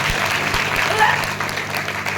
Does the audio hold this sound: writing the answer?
no